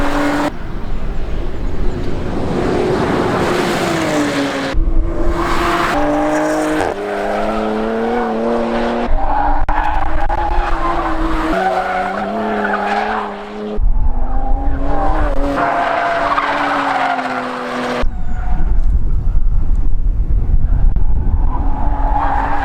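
A 2020 Porsche Macan Turbo drives hard through corners, its engine note rising and falling between gear changes, loud and close with tire noise and several abrupt cuts between passes.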